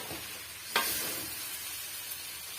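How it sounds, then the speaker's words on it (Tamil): Fried chicken pieces being sautéed with masala for chicken thokku, a soft sizzle with one sharp spatula scrape against the pan, then quieter frying alone. "சேர்த்தாச்சு இப்போ லைட்டாக வந்து கிளறி கொடுத்துக்கலாம்"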